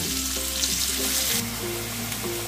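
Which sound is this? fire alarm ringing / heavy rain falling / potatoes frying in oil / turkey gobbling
potatoes frying in oil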